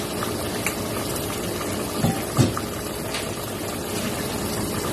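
Chicken afritada with sweet potato being stirred in a pot, a continuous bubbling simmer with a couple of soft scraping knocks of a spoon near the middle, close and fairly loud, with no talking.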